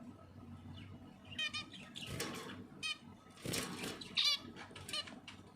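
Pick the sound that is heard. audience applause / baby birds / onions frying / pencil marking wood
baby birds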